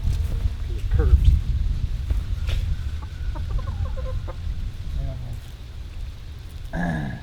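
Chickens in a mobile coop give scattered clucks and short calls at moderate distance, mixed with low rumbling background noise and a sudden brief scrape near the end.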